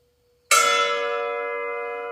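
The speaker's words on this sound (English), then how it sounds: "When you hit them with a wrench, they have a good tone to them" A single strike of a wrench sets a steel disc harrow blade ringing with a clear, bell-like tone that sustains and slowly fades.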